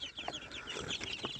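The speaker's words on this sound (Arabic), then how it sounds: "النهارده جبنا فراخ صغيرة جايبينها حوالي دينها 20 يوم كده" Young Fayoumi chicks about twenty days old peck at rice and cluck, a busy cluster of close, soft chirping clucks that overlap throughout, with no talking.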